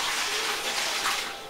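Cold water pours steadily into sanitised pans during a home brew, a broad rushing splash that stays loud and close throughout before easing slightly at the end.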